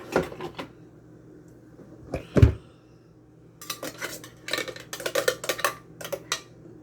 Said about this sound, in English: I need a spoon over here.